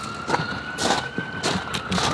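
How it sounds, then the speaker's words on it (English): A fire truck or ambulance siren wails steadily in the distance, heard under intermittent rustling and nearby handling noises. "Sounds like a fire truck's coming"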